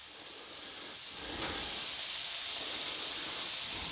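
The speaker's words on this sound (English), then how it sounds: "Let's fry them in the bacon grease." Brussels sprouts fry in bacon grease on a Blackstone griddle, giving a steady, soft hissing sizzle that swells slightly partway through and then holds even, with no voices.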